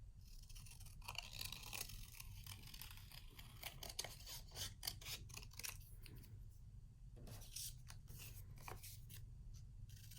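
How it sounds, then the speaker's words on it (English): Small scissors snip through paper to cut out eye shapes for a frog corner bookmark, quiet crisp snips and rustles repeating in irregular clusters up close, with no one talking. "a pair of scissors, and we're going to cut out those eyes"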